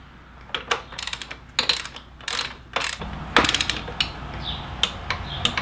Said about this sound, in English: we'll use a 12 millimeter socket on our torque wrench to set the torque on these bolts